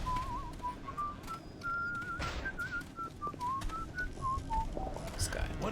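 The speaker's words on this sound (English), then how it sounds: "Who's whistling?" A character whistles a wandering tune in the video game BioShock, a clear steady melody of held and sliding notes running throughout, with game sounds around it.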